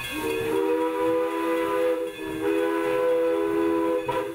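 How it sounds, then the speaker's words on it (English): A train winding through the Swannanoa Gap sounds a long, loud steam whistle in two sustained blasts over a steady rumbling hiss. "the sound of a train threading its way through the Swannanoa Gap"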